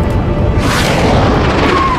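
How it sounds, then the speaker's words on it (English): Airstrike in the video game Battle: Los Angeles lands as a heavy, deep boom that rumbles on and rolls out over the couple of seconds, loud and close. "Another airstrike."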